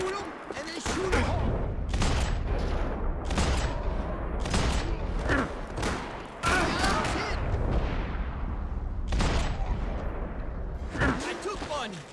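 Repeated bursts of gunfire from the video game Max Payne 3, loud and close, recurring in clusters throughout with voices talking over the shooting.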